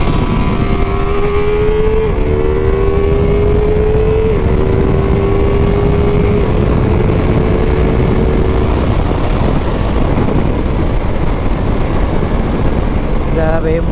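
A 2021 Ducati Multistrada V4S, a 170 hp touring motorcycle, drones loudly on a race track, holding a steady engine tone that shifts pitch a few times over constant wind and road roar.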